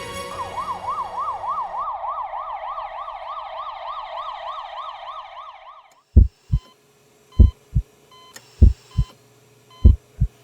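An ambulance siren wails loud and close in a fast rising-and-falling sweep for about six seconds, then cuts off, followed by a series of deep, thudding heartbeat-like pulses in pairs.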